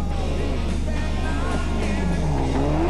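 Delecourt's Ford rally car races at the 1993 Tour de Corse, its engine a continuous loud drone that rises and falls in pitch through gear changes, with a faint voice in the background.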